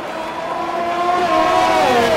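Formula 1 race cars from the F1 2020 video game scream through Eau Rouge at Spa in Belgium, a close, loud, rising high-pitched engine whine held steadily throughout.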